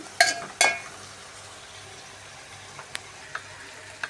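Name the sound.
frying coriander, mint leaves and green chillies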